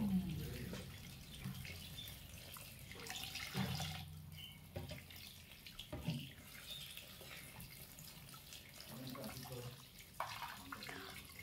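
Gandal leaves are washed one by one in water from a running tap into a sink, giving a faint, continuous splashing and trickling with irregular swells and small drips throughout.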